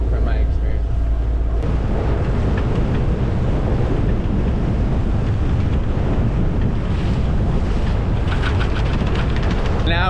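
Gusty wind roars across the microphone while a sailboat pushes through waves with one reef in the main, a loud, constant wash of wind and surf filling the whole stretch.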